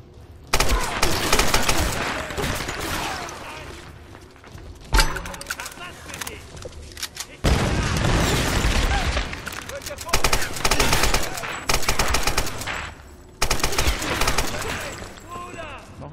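Repeated bursts of automatic gunfire and single shots in Tomb Raider, loud and close in several separate volleys with brief gaps, while a German-speaking player talks over it.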